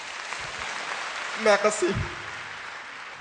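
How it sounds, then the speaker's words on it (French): An audience applauds steadily at a speech, a continuous wash of clapping that runs under a brief spoken thanks midway. "Mesdames et messieurs, ça s'applaudit."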